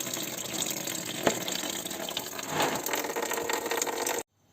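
Antifreeze draining in a steady gush from the radiator drain tap of a BMW E60, a continuous splashing water sound at even loudness that stops abruptly near the end.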